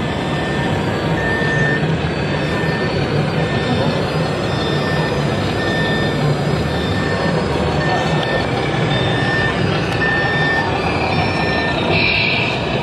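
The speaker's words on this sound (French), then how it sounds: "Il y a même les pelles mécaniques en train de bosser là-bas." Steady machinery noise from remote-controlled model excavators at work, with intermittent high reversing beeps and mechanical whirring, busy and continuous, with faint voices in the background.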